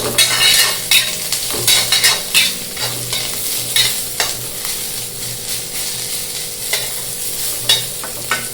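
Tamarind water with bitter gourd bubbling and sizzling steadily in a hot pan, with occasional scrapes and clinks of a utensil against the metal.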